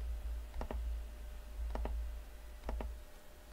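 Three spaced pairs of crisp computer mouse clicks, right-clicks on an Excel chart, sounding close and distinct over a steady low hum, with no talk.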